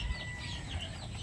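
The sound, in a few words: butcher gray chickens clucking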